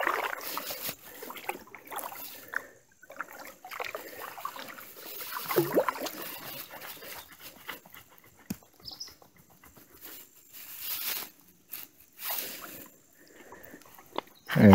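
A kayak paddled on a wildlife refuge creek, with soft water trickles, paddle splashes and hull knocks at close range, fairly quiet and intermittent with a louder bump at the end.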